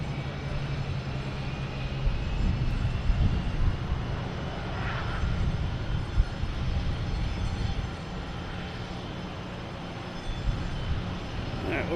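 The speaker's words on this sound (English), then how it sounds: "we got our British Airways A380, just about over Pleasure Bay at Castle Island" A British Airways Airbus A380 passes overhead near Boston Logan, a sustained low, rumbling jet drone heard from a distance outdoors, steady throughout with slight swells and no clear talk.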